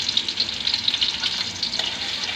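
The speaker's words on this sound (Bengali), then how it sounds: "তারপর নেড়ে নেড়ে পেঁয়াজগুলা লালচা হবে" Onions frying in a pan while being stirred until browned, giving a loud, dense, continuous sizzle with a bright hiss and small scraping stirs throughout.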